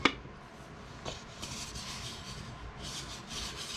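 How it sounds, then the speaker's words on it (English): Steady back-and-forth rasping of sandpaper by hand on black walnut bowls, close and continuous, with a sharp knock at the start and no voices. "More sanding."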